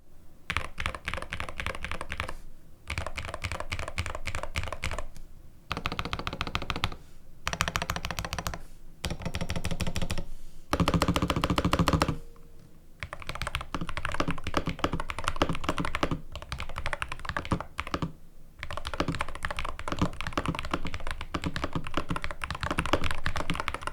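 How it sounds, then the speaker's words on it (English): Steady clacky typing on an ROG Falchion Ace HFX mechanical keyboard, close and crisp, in bursts separated by short pauses, with occasional heavier thunks from larger keys. "get an idea of how this keyboard sounds"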